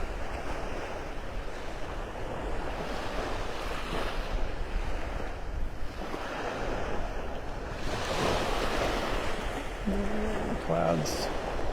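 Waves rolling onto the beach at Wiggins Pass, North Naples, Florida, on a sunrise walk: a steady wash of surf blended with heavy wind rumble across the microphone, with a faint brief tonal sound near the end.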